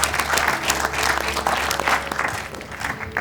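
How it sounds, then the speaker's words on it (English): An audience applauds at a film awards ceremony, with dense, sustained clapping from a full room that holds steady for a few seconds with no voices over it. "Please do give them a round of applause"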